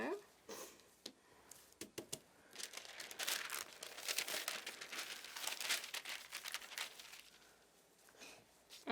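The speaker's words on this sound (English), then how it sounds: "I'm just going to pop some wax paper inside." Wax paper crinkles as it is slotted inside a craft piece, giving bursts of crisp rustling and crackling that are sparse at first and then build into denser handling noise before easing off.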